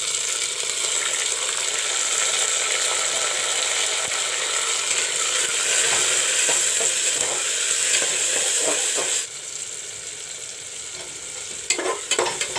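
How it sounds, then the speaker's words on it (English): Chopped tomatoes tipped into a pan of browned onions and green chilies for khatta daal, giving a steady bright sizzle with scraping spoon stirs throughout, then a quieter fry and a few sharp clinks at the end. "Now I will put the cut up tomatoes."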